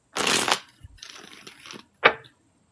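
A well-worn deck of cards gets shuffled close up: a crisp riffling burst, a softer rustling run of cards, then a quick final snap as the deck squares together.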